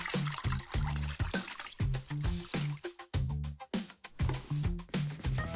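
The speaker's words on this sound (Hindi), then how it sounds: "ये लो बाल्टी, कपड़े को भिगो लो।" Cloth soaked in a bucket of water gives wet squishing and dripping sounds in quick, uneven bursts, close and fairly loud.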